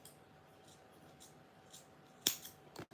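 A small thread cutter snips crochet thread while making a tassel, giving one sharp, crisp close click followed shortly by a second fainter snip against a quiet background.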